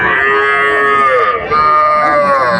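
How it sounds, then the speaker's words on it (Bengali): A red calf lows loudly and close at a cattle market in Chowbaria, Naogaon. It gives one long, drawn-out moo that breaks briefly and then carries on strongly. "লাল টুকটুকে বাছুর।"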